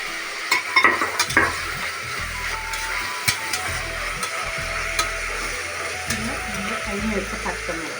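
Ginger garlic paste frying in hot oil for kappa biryani, a steady close sizzle with occasional stirring scrapes and clicks, while a person talks over it throughout.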